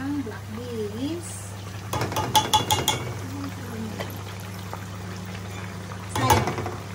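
Black beans are tipped into a cooking pot while making tokwa't baboy, making two short, close rattling pours over a steady low kitchen hum, with people talking nearby.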